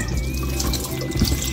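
Mushrooms rinsed under a running kitchen tap, a steady close stream of water splashing into a sink with faint dripping, continuous for the whole stretch with no talk.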